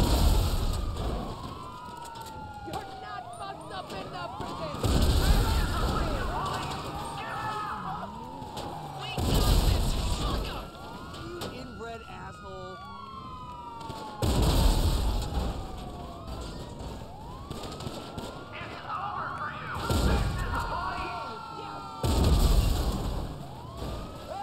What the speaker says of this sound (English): That's how effective pump-action explosive shotgun is.